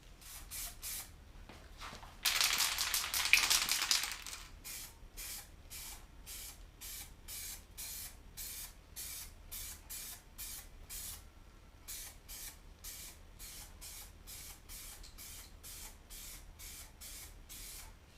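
A spray paint can hisses as paint goes onto a bicycle rim: one longer burst, then a long run of short, even, rhythmic sprays, close and fairly quiet, with no voices.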